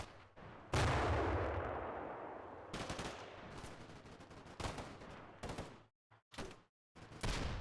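Grenade blasts and rifle fire in the Combat Mission: Black Sea war game, with a heavy explosion followed by a run of loud, close bangs and bursts separated by brief silent gaps.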